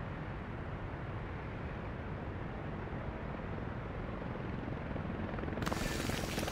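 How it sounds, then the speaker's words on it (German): A helicopter lifting off in the city-building game Workers & Resources, a steady broad rotor and engine roar held at an even level, swelling slightly louder near the end. "Der Hubschrauber juckelt sofort los."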